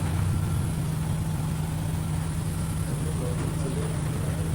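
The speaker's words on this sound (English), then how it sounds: "Servo motor heat stacking welding machine." A servo-motor heat staking machine for melting and welding thermoplastic studs runs with a steady, dense mechanical hum and a low drone, holding constant loudness throughout with no pauses.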